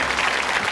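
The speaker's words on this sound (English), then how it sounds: "Let's applaud his last curtain call, Paul Campion." Studio audience on a quiz show applauding, a dense, steady burst of many hands clapping together at close range, with no voices over it.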